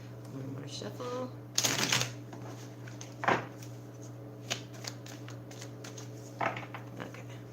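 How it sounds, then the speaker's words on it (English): Tarot cards are shuffled in a few quick riffling bursts, close and soft, separated by pauses with light handling clicks against a steady low hum. "One more shuffle."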